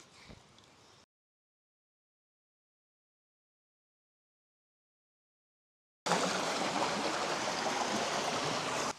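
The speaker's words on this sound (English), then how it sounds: "Let's go see the waterfall." Stream and waterfall water rushes in a steady, loud broadband wash for the last few seconds, after a brief burst of outdoor noise and a long stretch of silence.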